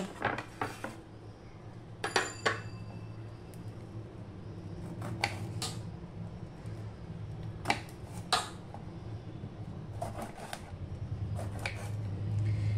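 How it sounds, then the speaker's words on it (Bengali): A knife slices peeled, scraped ridge gourd into round pieces in a home kitchen. Several crisp taps land at irregular intervals over a low steady background hum, with no talking. "এবার আমি ঝিঙেগুলোকে কেটে নেব।"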